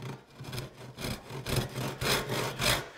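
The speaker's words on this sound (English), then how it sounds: "I'm going to use a saw with slightly finer teeth, in this case a crosscut saw." A crosscut hand saw with fine teeth bites into a wooden board in a hand-tool workshop, with steady back-and-forth rasping strokes at close range, about two strokes per second and no voices.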